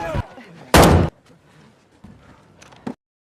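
Gunshots in a film scene of robbers being shot down, two loud sharp bursts with a third fainter one near the end, separated by quieter rumbling gaps.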